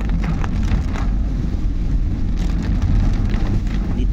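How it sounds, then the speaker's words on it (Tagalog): Heavy rain pours steadily on a mountain road drive from La Trinidad to Bacnotan, a dense, loud, continuous wash with the low rumble of a moving car underneath. "Ang lakas pala ng ulan guys."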